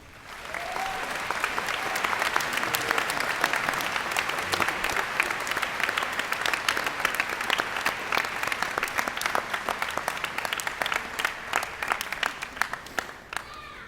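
Sustained applause from a large crowd at a high school graduation ceremony, dense steady clapping throughout, heard from a distance with a roomy, reverberant quality.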